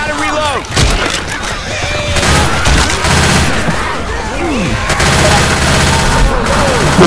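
Rapid bursts of gunfire crack out in Left 4 Dead 2 as survivors fight zombies, repeated loud shots with reload clatter and voices shouting over the shooting.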